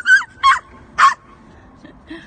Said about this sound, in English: It's echoing! Your bark is echoing, Kimchi.